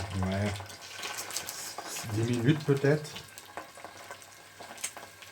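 Oil sizzles and crackles steadily as spring rolls fry in a pan, while a person speaks briefly in French over the frying.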